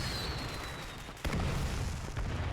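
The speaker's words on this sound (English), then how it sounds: "My beloved two-step firecracker." A two-step firecracker bursts in the Arknights video game, a single sudden boom cutting through a steady noisy wash and leaving a sustained rumbling roar.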